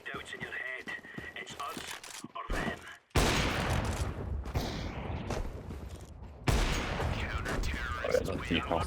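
Rapid bursts of video game gunfire, loud and sustained, crackling in dense volleys after a person talks briefly at the start.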